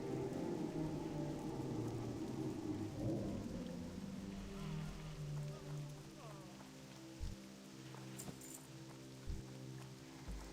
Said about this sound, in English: It's too bad that it's raining, guys. I'll be honest, I'm not a fan of WoW rain at all.